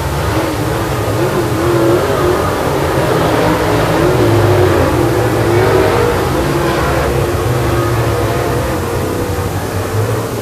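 Late model stock cars roar around a race track in the closing laps, a loud, continuous blend of engines revving with shifting pitch as the pack passes, no voices over it.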